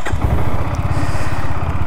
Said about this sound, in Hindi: एक बार स्टार्ट करते हैं बाइक को।